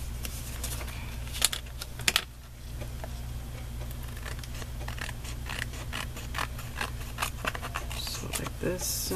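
Scissors snip through cardstock while trimming around the edges of a handmade card, a run of crisp cuts at close range over steady low background hum, with a few sharper clicks early on.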